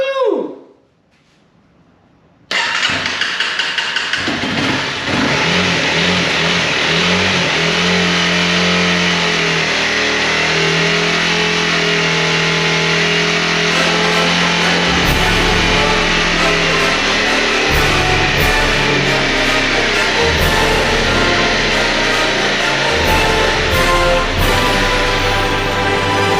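A 2011 Honda CBR250R motorcycle engine cranks and catches after a brief quiet start, then runs loud and close, settling into a steady idle broken by several sharp revs toward the end.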